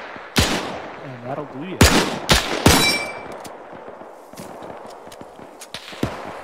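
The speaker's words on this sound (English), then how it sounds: "Fucking rifle fire." Rifle and machine-gun fire in Arma 3 with a WW2 setting, a close loud crack at the start followed by several sharp shots and metallic clangs, a voice speaking briefly between the bursts.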